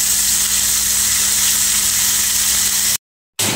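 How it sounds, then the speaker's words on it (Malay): Loud, steady sizzling of flour-battered pomfret fish frying in hot oil, a dense crackling hiss that runs continuously before cutting out briefly near the end. "Ini kita goreng dia sampai garing"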